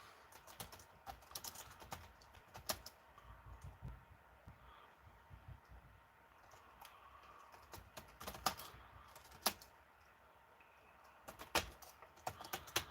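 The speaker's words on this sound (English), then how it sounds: "So let me type this in." Clicky keystrokes tap out on a computer keyboard at close range in irregular bursts and pauses, fairly quiet overall, with no talking.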